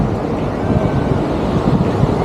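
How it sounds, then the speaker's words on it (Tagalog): Strong wind buffets the microphone during a motorcycle ride along the Isabela loop, a loud continuous low rumble and roar with no other sounds standing out. "Mahangin dito."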